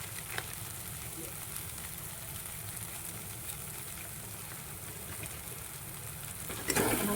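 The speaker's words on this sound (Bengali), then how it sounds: "মশলাটা আমার কিছু কষানো হয়ে গেছে, আরও অল্প টাইম কষাবো।" Masala spices for egg curry sautéing in a pan, a steady crackling sizzle with occasional light stirring scrapes and a brief louder clatter near the end, no voices.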